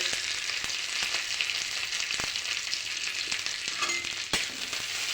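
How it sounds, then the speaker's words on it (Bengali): Raisins and crushed cardamom fry in a spoonful of ghee with a steady, close hissing sizzle, broken by a few sharp taps of a spoon against the pan, and no talking. "এক চামচ ঘি দিয়ে কিশমিশ এলাচ দিয়ে"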